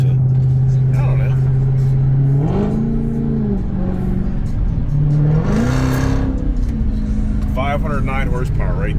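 A 509-horsepower car engine holds a steady drone, then rises in pitch through two revving accelerations with gear shifts, loud and close, while someone talks over it.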